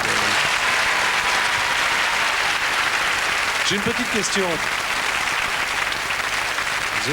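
Sustained audience applause fills a French television show studio for an artist, steady and dense throughout, with someone speaking over it near the end.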